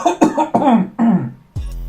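Several short, harsh coughs burst out in close succession, each a loud, bursty exhale, followed by a brief lower throat sound at the end, all close to the microphone with no talk between them.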